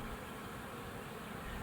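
A swarm of honey bees clustered a few feet up a tree trunk gives off a steady, dense buzzing hum, continuous and fairly faint, with no voices over it.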